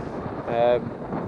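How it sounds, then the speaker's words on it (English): Steady rushing strong wind buffets the microphone throughout at a high fell wild camp, with a brief tonal whistle rising out of the noise midway. "It is still quite windy up here"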